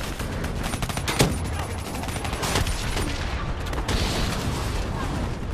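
Heavy gunfire and explosions as an APC is destroyed in the video game Call of Duty Black Ops 3, dense bursts of shots and booms throughout, loud and close, with voices briefly heard.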